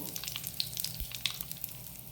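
Curry leaves and asafoetida sizzle in hot oil for a mango pickle, a soft, steady crackling hiss with scattered faint pops.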